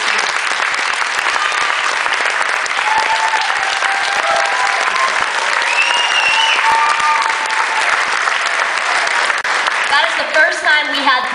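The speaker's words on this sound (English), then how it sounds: "So let's give a round of applause for those." A school spring concert audience applauds in a sustained, dense wash of clapping that lasts throughout, loud and close, with voices faintly audible underneath toward the end.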